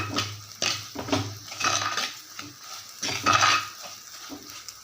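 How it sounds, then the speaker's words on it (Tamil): A metal spoon scrapes and clinks against a pan in repeated stirring strokes as spice powder sautés in oil for fenugreek curry, over a soft sizzle of frying. "இப்போ இந்த எண்ணெயில் நல்லா தூளை வதக்கியாச்சு"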